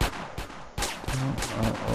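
Repeated gunshots in GTA San Andreas, a quick series of close, loud cracks fired in uneven succession with a faint tone between bursts.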